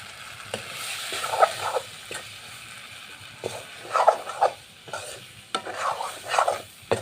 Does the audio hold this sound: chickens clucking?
no